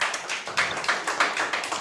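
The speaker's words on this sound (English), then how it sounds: "Let's give them a round of applause." An audience gives a short round of applause for panelists at an arts disability panel, a handful of people clapping nearby in uneven bursts without voices.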